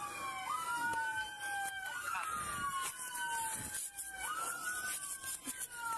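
A police car siren wails in repeated rising and falling sweeps, moderately distant, with scattered voices and commotion underneath at a police shooting scene in Little Rock.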